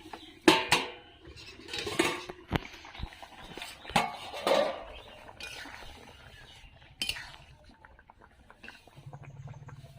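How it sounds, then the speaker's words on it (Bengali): A metal lid lifted off a pot of mola fish curry with potatoes and vegetable stems gives a few sharp clinks and clatters, with softer kitchen knocks and a low simmer between them. "তরকারিটা ঢাকাটা খুলে দেখব"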